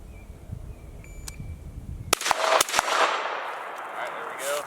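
Two sharp rifle shots crack out at a 50-yard steel target during rifle training, following a quiet stretch with faint talk and a brief beep.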